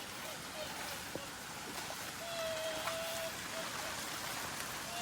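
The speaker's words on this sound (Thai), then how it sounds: "ฝนตกหนักแล้วนะ" Heavy rain at night around an abandoned shopping mall, a dense, constant hiss that fills the whole clip, with faint voices now and then.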